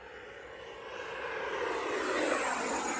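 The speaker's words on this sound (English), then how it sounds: "This plane's going so fast, I gotta be careful not to fly over the neighbor." A radio-controlled F-18 Blue Angels jet with an 80mm ducted fan makes a steady, high-pitched rushing whine as it flies fast overhead. The sound grows gradually louder and sweeps in pitch, with a moderate, somewhat distant character.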